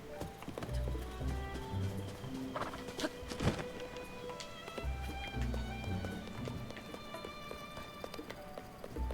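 A horse gallops in the video game Zelda: Tears of the Kingdom, with rhythmic drumming hoofbeats in bursts, a sharp impact near the middle and scattered chimes and game effects layered over it.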